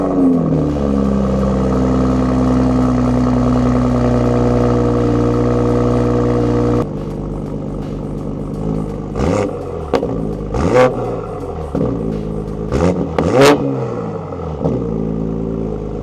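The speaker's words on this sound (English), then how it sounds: "Next we have my very dirty AWE Touring exhaust. It looks great and sounds even better." A Toyota MKV Supra A90 fitted with an AWE Touring exhaust holds a loud, steady drone, then drops to idle and blips through several sharp revs, each rising and falling quickly.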